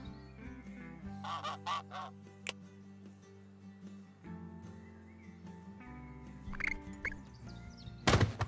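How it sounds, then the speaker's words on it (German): A cartoonish goose honks repeatedly in the zoo-building video game Let's Build A Zoo, its calls loud and close over steady background game music, ending in a louder burst of honking. "die komische Gans kommt an mit dem Ding auf dem Schnabel"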